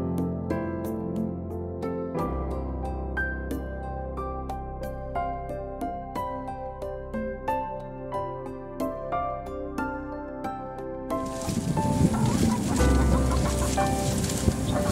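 Chickens cluck inside a coop on a farm in the Philippines, a busy run of repeated close clucks and calls, followed by a louder burst of broadband rustling and noise near the end.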